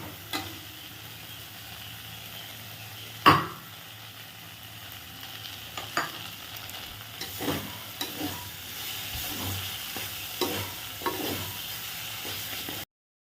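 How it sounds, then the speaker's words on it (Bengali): Gobindobhog rice being fried with spices in a hot pan, a steady low sizzle with scattered stirring scrapes and a sharp utensil knock near the start, no voices. "চালটা ভেজে নেব"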